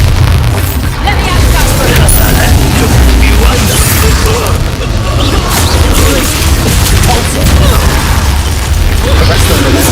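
The Bombarda spell explodes in the Hogwarts Legacy video game amid a loud, dense spell-combat mix with deep booms and bursts running throughout, and a voice is heard over the chaos.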